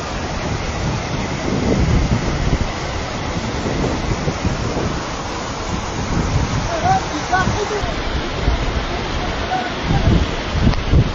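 Heavy rain falls during a storm in Lentekhi, Georgia, a loud, continuous wash with gusty wind buffeting the microphone and faint voices in places.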